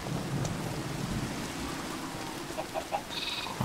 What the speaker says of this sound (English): Oh, we got some rain.